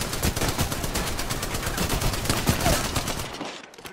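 Rapid automatic gunfire in a video game, a loud, sustained burst of dense shots rattling steadily for about three seconds before cutting off abruptly.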